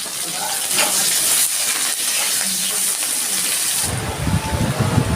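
Chopped onion dropped into hot oil with dry red chillies, green chillies, a bay leaf and five-spice seeds, giving a continuous sizzle that swells into a louder, rougher fry near the end.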